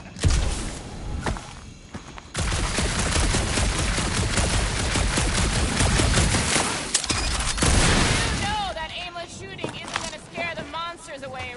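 Bursts of rapid gunfire rattle through a dark area of a video game, dense volleys running for several seconds, then giving way to scattered shots and chirpy electronic effects.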